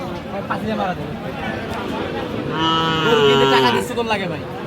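A cow moos loudly nearby at a cattle market, a long drawn-out call rising over a busy crowd of people chattering.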